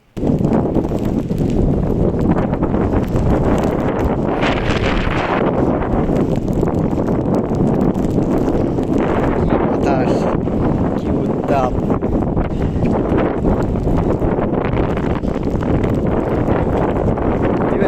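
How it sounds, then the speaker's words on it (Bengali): Strong, roaring wind of Cyclone Remal in Satkhira, Bangladesh, buffets the microphone continuously, a dense broadband rush with gusty swells throughout, loud and close. "আপনারা তো বাতাসের শব্দ শুনলেন দেখেন কি বাতাস"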